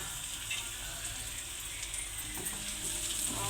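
Okra masala curry fries in a pan with a soft, continuous sizzle and crackle at low volume, steady for a few seconds, no voices.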